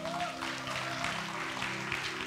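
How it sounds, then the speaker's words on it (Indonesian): An audience at the God's DNA Global Prayer Meeting 2025 claps for friends from the Palangkaraya group. The steady, dense applause fills the room over a low sustained musical hum. "kita tepuk tangan dulu buat untuk teman-teman God's DNA Palangkaraya"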